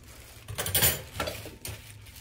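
Stainless dinner spoons from a 24-piece silverware set clink and rattle together in a few short bursts of close metallic handling, fairly quiet.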